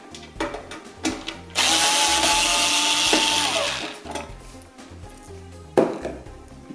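A screwdriver works tight screws loose on an Abkoncore C200M micro ATX PC case. Scattered close clicks and knocks surround one loud whirring burst lasting about two and a half seconds, then a sharp knock near the end.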